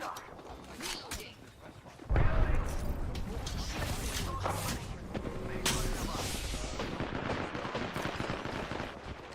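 Sustained automatic gunfire in a video game, loud and continuous after an opening burst, with a voice speaking under the shooting.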